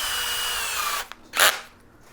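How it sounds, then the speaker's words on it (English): A power drill spins at high speed while pre-drilling a pilot hole during a tool build, whining steadily for about a second before stopping, followed by a short sharp burst of bit noise and clatter. "Pre-drill my hole."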